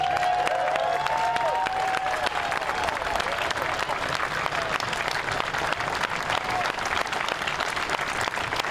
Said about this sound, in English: Big round of applause there.